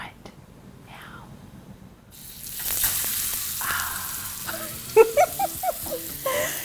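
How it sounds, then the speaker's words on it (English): Pepper steaks sizzle in a hot pan, a quiet hiss that swells after a couple of seconds, with a few sharp pops and crackles near the end. "I'm gonna get my steaks in here and I'm very excited to hear this sizzle"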